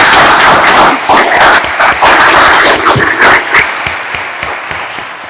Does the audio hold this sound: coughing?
no